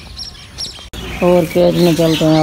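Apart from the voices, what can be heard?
small finch-like bird calling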